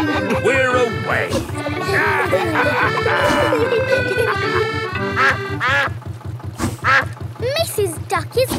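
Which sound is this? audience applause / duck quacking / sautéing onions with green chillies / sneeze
duck quacking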